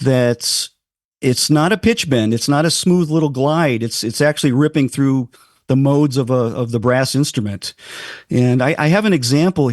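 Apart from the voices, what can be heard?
No distinct noise like a dog, phone or traffic.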